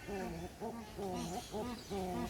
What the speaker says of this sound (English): this is what they call the barking owl, and listen to the sound it makes.